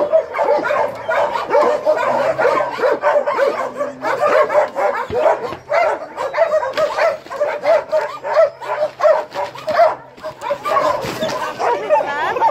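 Several dogs at an animal shelter on a freezing morning bark and yip excitedly, with whimpers mixed in, fairly close and continuous, while a person talks over them.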